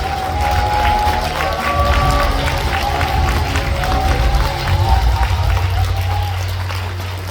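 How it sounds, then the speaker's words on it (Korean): A hotel event hall audience in Cheongju welcomes Prime Minister Kim Min-seok to the stage with loud, sustained applause and some cheering, a dense crowd roar over music or background hum, with voices mixed in. "여러분의 뜨거운 박수로 김민석 총리님을 무대로 맞이하겠습니다"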